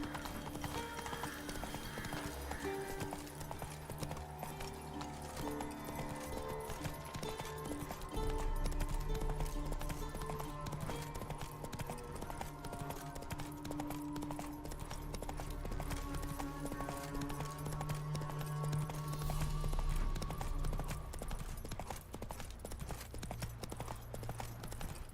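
Horse hooves clip-clop at a steady gallop in The Witcher 3, a continuous rhythmic drumming of hoofbeats over the game's ambient sound, moderately loud throughout.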